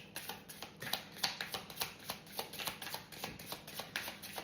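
Cards from an oracle deck are shuffled and drawn, a quiet, close series of rapid papery flicks and riffles in a steady rhythm, alone without talk.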